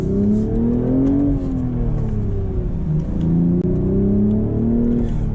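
A 2025 BMW Z4 M40i with a manual transmission drives along, its engine giving a steady, loud low rumble that rises and falls in pitch as it accelerates and eases off, with no voices.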